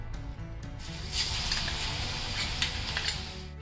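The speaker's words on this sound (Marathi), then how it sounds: "ते हा लसूण आधी आपण तळून घेऊया" About 15 to 20 crushed garlic cloves fry in hot oil, giving a steady, close sizzle throughout with a slight rise partway in and occasional spatters and stirring sounds.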